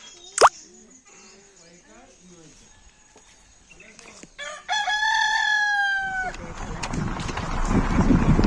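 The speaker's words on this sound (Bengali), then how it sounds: "এখানে প্রচুর বন মুরগি আছে।" A jungle fowl rooster crows loudly and close in a forest area, one long, clear call following quieter clucks and a sharp knock, with people talking and rushing background noise afterward.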